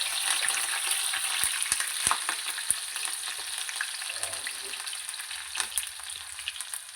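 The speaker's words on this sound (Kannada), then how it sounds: "ಎಣ್ಣೆ ಕಾದಿದೆ, ಅದಕ್ಕೆ ಸಾಸಿವೆ, ಜೀರಿಗೆ" Mustard seeds, cumin and green chilli sizzle in hot oil for South Indian upma, a fine continuous crackle with sharp pops and spits scattered throughout, close and fairly quiet, with no talk.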